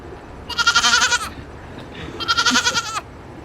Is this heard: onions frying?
no